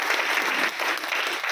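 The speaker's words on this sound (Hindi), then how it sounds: "हमारी टीम में एक बहुत जुझारू लीडर थे पवन शर्मा जी, मैं एक बार जोरदार तालियां उनके लिए भी चाहूँगा।" A crowd at a business gathering gives loud, dense applause for Pawan Sharma, a continuous roar of clapping filling the short moment without any voice over it.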